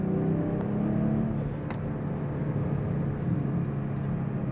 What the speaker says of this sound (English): Very linear acceleration, very healthy amount of torque, and smooth power delivery.